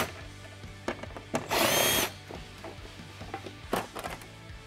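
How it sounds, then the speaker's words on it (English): A 10 millimeter socket loosening bolts on the factory rear bumper of a Jeep Gladiator JT, near the license plate, gives sharp clicks and knocks around a brief burst of harsh ratcheting, close and loud against a low background hum. "You need to start with a 10 millimeter socket."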